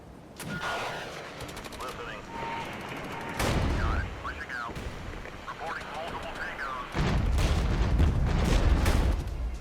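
Rapid gunfire and explosive booms from a battle in the video game Regiments, with bursts of shots layered over dense, loud combat noise and distant artillery.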